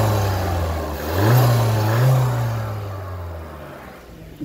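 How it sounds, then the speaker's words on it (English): A 2015 Seat Leon 1.4 TSI FR petrol engine is revved with the bonnet open, rising twice in quick swells from a steady idle before settling back down, heard fairly close and alone. "So I'm just going to rev the engine as well"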